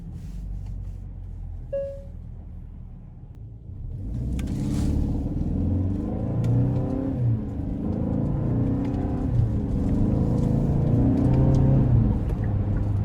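A 2022 Hyundai Santa Fe Limited 2.5T engine climbs in pitch under hard acceleration using paddle shifters, dropping briefly at each gear shift before pulling again, a steady loud interior drone.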